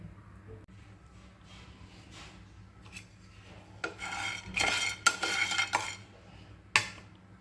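Coriander seeds and dried chillies dry roast in a pan without oil over low heat, heard as quiet scraping and rattling stirs that grow louder and busier toward the end, with no talking.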